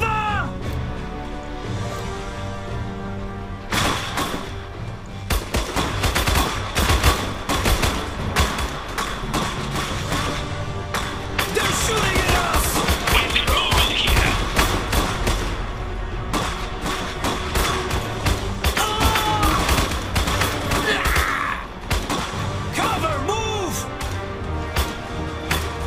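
Gunfire in the World War II strategy game Iron Harvest, loud dense volleys and thuds layered with game music and sound effects, with bursts of speech over the battle.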